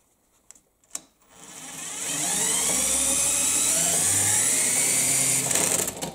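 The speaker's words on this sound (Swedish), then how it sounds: "Nu orkar borrmaskinen dra upp i 15-16 volt." An electric drill spins up a generator stator for a rectifier bridge test, a high steady whine that rises after a few clicks and holds loud and close, with a lower hum joining briefly near the end.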